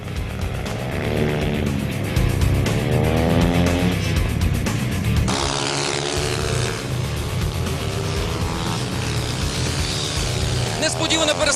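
Supermoto motorcycles race on an asphalt track during a Ukrainian championship round, engines revving hard and rising in pitch as they accelerate out of a corner, close and loud, with a commentator talking over the engine noise.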